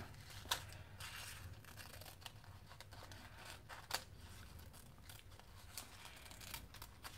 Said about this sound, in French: je coupe le surplus